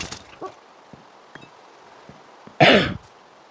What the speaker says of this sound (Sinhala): කැස්ස උග්‍රත්වයට පත් වෙනවා